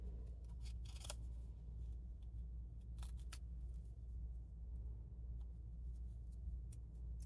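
Scissors snipping through paper while cutting out a paper snowflake, giving scattered short crisp snips at a steady close distance over a low background hum, with no talk.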